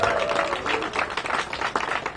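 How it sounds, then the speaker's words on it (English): A crowd at a clock re-illumination celebration gives a round of applause, many hands clapping in a steady, fairly loud wash, with a faint voice briefly under it at the start. "Give them a big round of applause."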